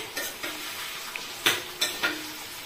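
Gongura paste being stirred into softened tomato frying in oil, with a steady low sizzle and several distinct scraping strokes of a spoon across the pan, close and without talk.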